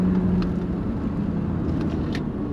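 BMW 325is engine running close up, a steady low rumble with a faint rising edge as the throttle is touched, continuous and loud with no talking.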